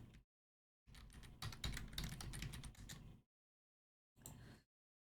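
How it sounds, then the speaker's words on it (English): Someone types on a computer keyboard in a quiet room: a few seconds of quick soft clicking, then silence, then a shorter burst of keystrokes. "Here, let's try typing."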